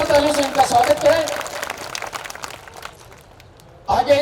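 A crowd at a community convention applauds to welcome meal sponsors. The applause is fairly faint and follows someone speaking over a microphone, and his voice returns at the end.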